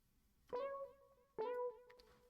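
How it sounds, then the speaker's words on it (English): Two bright synth plucks, each a sharp attack with a short ringing tail, spaced about a second apart over near silence. "Next is this funny pluck sound in the beginning"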